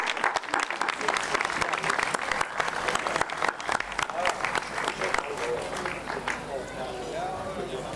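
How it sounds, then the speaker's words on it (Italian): An award ceremony audience claps steadily and loudly, dense applause filling the first several seconds before thinning out, with voices murmuring underneath. "Io vorrei che si facesse un altro applauso a Maria Grazia Castellano."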